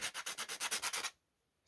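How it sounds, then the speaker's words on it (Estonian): A disc sander fitted with coarse sandpaper works a wooden piece for a handmade fishing lure, with about ten quick, even rasping strokes in a steady rhythm, loud and close, then it stops abruptly. "ketas lihvija"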